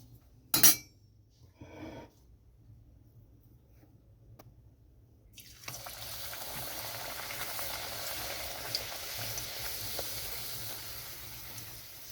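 Spinach luchi frying in hot oil on a lowered gas flame: a few faint knocks and near-silence at first, then a steady, close, continuous sizzle that holds to the end.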